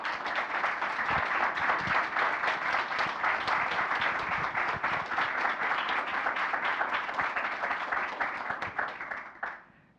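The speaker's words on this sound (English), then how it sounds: "I think she deserves another applause" Sustained audience applause from a crowd after a workplace-culture talk, steady dense clapping for nearly ten seconds before tapering off at the end.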